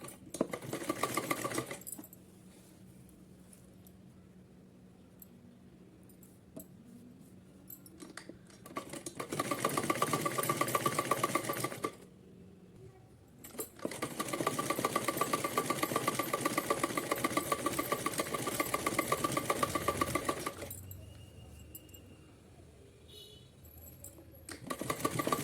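Electric sewing machine stitching a folded strip of cotton fabric into a hem, running in three long steady bursts of whirring with quiet pauses between, close and fairly loud.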